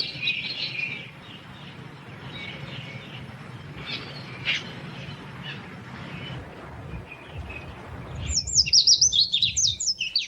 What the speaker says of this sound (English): The Galapagos bird, most in danger of extinction, nests in a part of the islands the visitor seldom sees, the moist volcanic uplands.